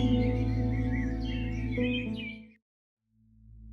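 Small songbirds such as chickadees singing at sunrise, a steady overlapping chorus of high chirps and tweets over a low hum, fading out midway, then near silence with a faint return.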